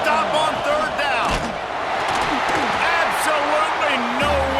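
Stadium crowd roaring steadily in EA Sports College Football 26, a loud continuous wall of fans on a third-down defensive stand, with game sound effects and a commentator talking over the top.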